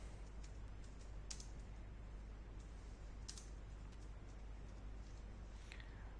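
Soft keyboard typing: scattered light keystroke clicks over a steady low hum, close and faint, while a promo code is entered in a food delivery vendor panel.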